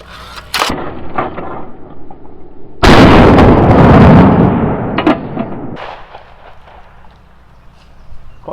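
A Browning Citori 725 high rib trap 12-gauge shotgun fires a Winchester AA light trap load of number 8 shot outdoors on a range, one loud close blast ringing out after a sharp earlier crack, with footsteps and handling noise around it.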